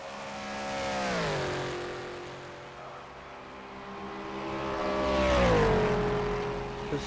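A GT4 race car in a sim racing game at Bahrain, its engine note climbing through revs, dropping on a shift, then rising again louder with a steady tonal whine, and no voices over it.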